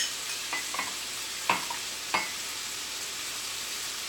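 P.F. Chang's Kung Pao sauce, thick and flecked with crushed red pepper, pours into a hot pan, giving a steady close sizzle broken by a few sharp clinks and scrapes.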